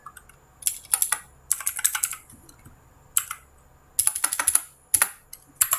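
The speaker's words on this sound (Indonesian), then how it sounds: "Yang pertama dilakukan, kita harus mengetik units." Bursts of typing on a computer keyboard entering a drafting command, quick clustered key clicks in several runs separated by short pauses, close and clear with no talking.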